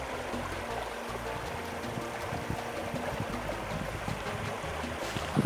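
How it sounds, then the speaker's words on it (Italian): A river in Colombia pours over and cuts through rock into a pool, making a steady, loud rushing wash of water that stays constant throughout with no voices. "Guardate come passa il fiume, è come se tagliasse la roccia, no?"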